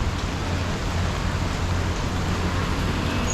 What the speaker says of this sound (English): It's really raining right now too